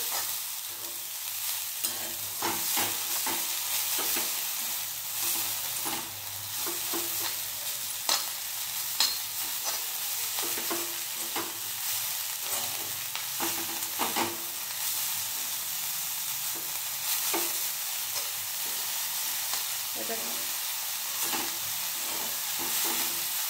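Salt stirred into gholachi bhaji, a purslane green dish, sizzling in a pan: constant bright hiss with frequent scraping and clinking stirring strokes throughout, close up, no one talking.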